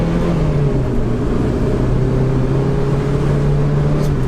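A tiny Japanese car cruises along an empty road, its engine a steady close drone whose pitch sinks slightly as the car eases down toward a slower speed, with no talking.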